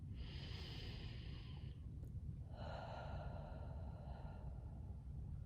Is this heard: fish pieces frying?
no